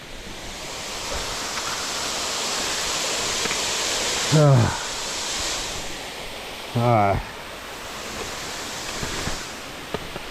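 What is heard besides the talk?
waterfall roaring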